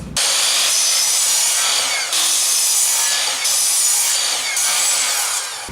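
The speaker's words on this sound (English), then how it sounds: "Then we cut them all out with that angle on there. It's not that hard when you got a miter saw." Wood boards are cut at an angle with a miter saw in a woodshop: a loud, close, continuous rough sawing noise, broken into several strokes with slight dips between cuts.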